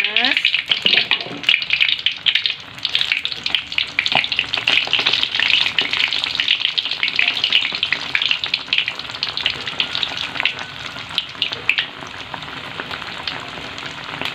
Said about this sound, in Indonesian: Kita masukkan tempenya ke dalam minyak yang sudah panas.